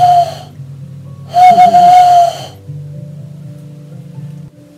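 An owl pipe is blown to imitate a wood owl's hoot, giving two steady whistled tones, a short one and then a longer, louder one, over a low background hum.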